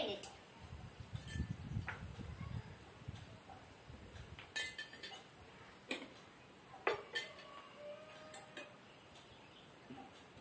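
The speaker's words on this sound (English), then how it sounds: "Now I am going to strain it." A blended mixture with vanilla essence is strained, a spoon pressing and scraping against the strainer and bowl in scattered metallic clicks and taps. Softer rustling comes between them, with speech at times.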